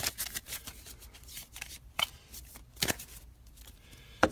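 Magic: The Gathering playing cards are shuffled by hand in a continuous riffling and slapping patter, with sharp card snaps standing out near and clear and no one speaking.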